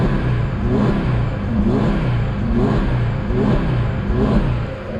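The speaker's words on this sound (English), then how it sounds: "And the car runs just fine." Audi RS3 engine running after a fuel pump install, revving up repeatedly in a steady rhythm of rising and falling pulls, loud and close with no speech.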